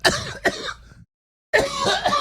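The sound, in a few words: cough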